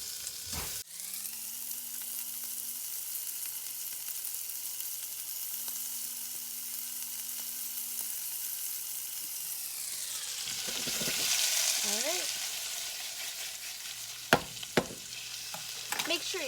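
Chopped bacon frying in a non-stick saucepan gives a steady, close sizzle with a low electrical hum beneath, swelling briefly midway, and a few sharp clicks and clatters near the end.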